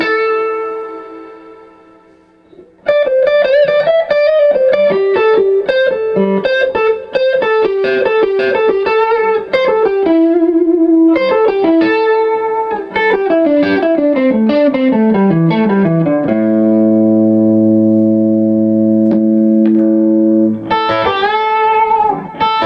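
Electric guitar played with gain plus light reverb and delay, loud and close, running through fast pentatonic note sequences, with a short sustained passage of held notes partway through and no talking.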